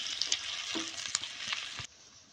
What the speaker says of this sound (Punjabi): ਪਿਆਜ਼ਾਂ ਨੂੰ ਆਪਾਂ ਭੁੰਨ ਲੈਣੇ ਆ